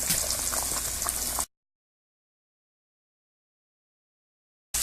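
Fish frying in hot grease gives a loud, steady, broadband sizzle for about a second and a half, then cuts to abrupt silence before the hiss briefly returns at the very end.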